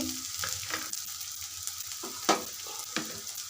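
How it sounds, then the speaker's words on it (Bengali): Onions frying in a pan for a dried fish and tomato curry crackle and sizzle steadily, with a few sharper stirring clinks and scrapes close by. "আমার পেঁয়াজটি লাল লাল হয়ে ভেজে আসছে"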